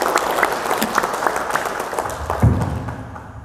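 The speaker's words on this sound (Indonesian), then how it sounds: "Oke, tepuk tangan buat Dita" A seated audience at an Indonesian business presentation gives applause for a presenter, a dense wash of clapping with a few louder hand claps and a low thump near the end, moderately loud and without speech.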